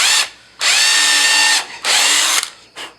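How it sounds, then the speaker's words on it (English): A power drill with a small bit pre-drills holes in wood for lag bolts, whining in four separate bursts: two long runs, a shorter one and a brief final blip, each starting and stopping abruptly, close and loud. "I'm going to pre-drill just with a small bit these holes so the lag bolts will"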